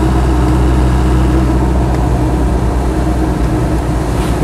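A heater blower fan runs steadily inside a Land Rover 90 200TDi, a constant loud broadband whoosh with a low rumble underneath, unbroken for the whole stretch.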